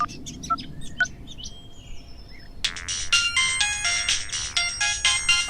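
A mobile phone ringtone in a Hindi film scene cuts in partway through after faint bird chirps, then plays a loud, bright, repeating electronic melody close by with no talk over it.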